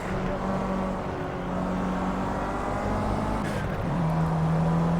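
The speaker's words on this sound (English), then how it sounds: "the car seems to bog down a bit" Race car engine in the Project Cars racing game, a steady droning hum held under constant noise, with a slight shift in pitch near the end as the car bogs down.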